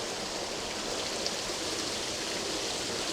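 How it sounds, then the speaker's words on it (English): A waterfall heard from nearby, a dense, constant roar of rushing water that stays steady and loud throughout. "So this is the waterfall, a bit closer."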